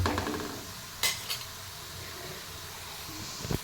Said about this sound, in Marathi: तर ते आता शॅलो फ्राय करणार आपण त्याच्यामध्ये